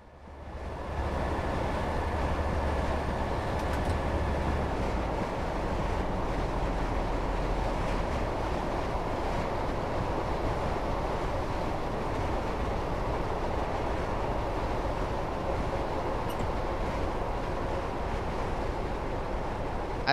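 Train descending a 1 in 70 gradient toward Inverkeithing on the Fife Circle Line, heard from the driver's cab: a steady, loud rumble of wheels and running gear that continues for the whole stretch with no talk.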